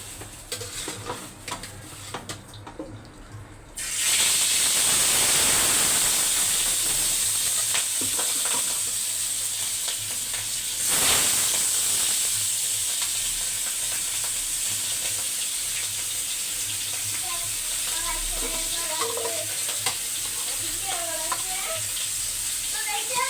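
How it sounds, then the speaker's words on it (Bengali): Fish frying in a pan gives a steady, close sizzle that starts abruptly a few seconds in and holds, with occasional utensil clinks and faint talk in the background. "আমার জন্য মাছ ভাজি"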